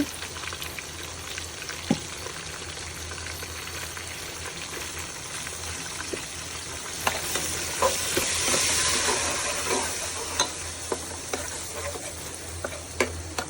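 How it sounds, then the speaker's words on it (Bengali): Bay leaf, cumin and turmeric sizzle in hot oil for a sacrificial meat curry, a steady crackling fry with occasional spoon clicks and stirring swells, close and without speech. "তেজপাতা জিরা হলুদ দিয়ে আমি তেলটা ভেজে নিলাম তেলটা গরম করে নিলাম"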